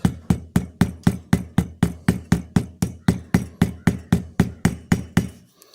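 A light hammer taps a pin through a pocket knife resting against an anvil, about twenty sharp, evenly spaced metallic strikes in a steady rhythm, close and clear.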